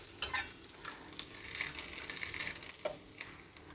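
Mustard seeds, curry leaves and dried chilies crackle and sizzle in hot oil for a tempering, a steady frying hiss broken by sharp popping spurts, close and moderately loud with no talking.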